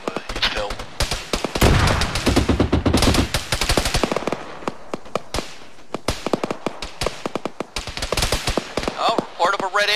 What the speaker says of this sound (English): Taking a little bit of fire from a BMD out on the east hill.